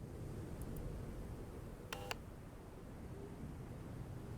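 Phone dialing tones in the Secret Files: Tunguska video game: a brief pair of electronic beeps near the middle, heard over a steady low hiss with no talk.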